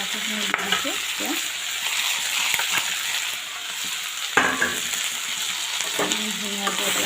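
Potatoes and nefafu leaves fry with pork in a pan, a steady close sizzle with scattered crackles and occasional clinks of a stirring utensil, no talking.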